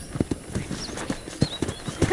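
Quick, rhythmic hoof clip-clops from a horse walking nearby in the video game Red Dead Redemption, clear and fairly quiet, with no talking.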